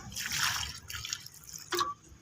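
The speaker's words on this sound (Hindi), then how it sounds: "पानी डालते हैं" Water poured into a container for a mix with multani mitti, coming as a short splashy pour with gurgling, a pause, then a brief final splash.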